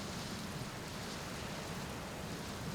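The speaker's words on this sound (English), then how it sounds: "Rain. It doth quench my jetpack." Steady rain from the video game Outer Wilds hisses evenly throughout, a dense, constant wash with no voices over it.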